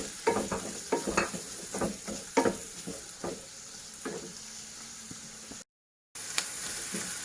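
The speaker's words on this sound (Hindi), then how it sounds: "ये बटर हमारा गल चुका है। उसके बाद मैं इसमें प्याज डालूंगी जो मैंने चॉप किए थे।" Chopped onions frying in melted butter for a Sindhi butter paneer masala, with irregular stirring scrapes and soft crackle over a steady sizzle, close and moderately loud, one brief dropout near the end.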